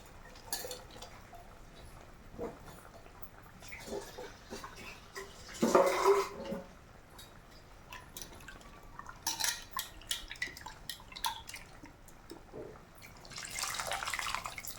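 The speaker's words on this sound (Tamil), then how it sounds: "புளி தண்ணி விட்டாச்சு." Tamarind water poured into a pan of cluster bean and French bean sambar, a brief splashing pour standing out near the middle amid faint kitchen clatter and drips, with no talking.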